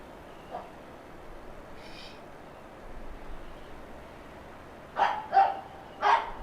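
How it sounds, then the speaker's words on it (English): Several sharp dog barks in quick succession near the end, with one faint bark earlier, over a low steady background hum. "Apologize for the dog barking"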